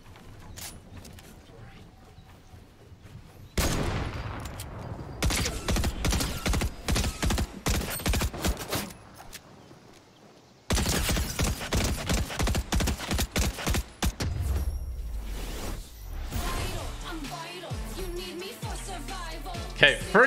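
Rapid bursts of SMG gunfire in the Fortnite battle royale game, loud dense fusillades in two long stretches separated by a brief lull, with game music and mechanical clatter.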